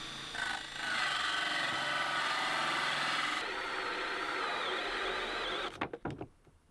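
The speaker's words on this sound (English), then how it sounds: "We're going to use a 3-inch hole saw" A 3-inch hole saw bores through OSB, a continuous loud grinding whine that runs for several seconds, shifts lower midway, then stops in a few quick scraping rasps.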